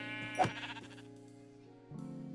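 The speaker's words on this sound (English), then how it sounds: "Wait, is that a sheep?" A Minecraft sheep bleats once, a short, wavering cry that rises over steady, sustained background music, followed by a softer second tone near the end.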